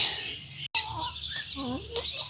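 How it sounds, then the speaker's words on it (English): Chickens cluck and make short warbling calls nearby while pecking at squash, over quiet outdoor background noise on a wet day. "Neighbours' chickens are trying to get in on it."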